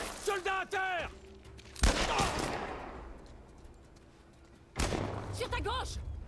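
Gunfire bursts in The Last of Us Part I, a sharp loud shot near two seconds followed by a decaying rumble, with excited voices talking before and after.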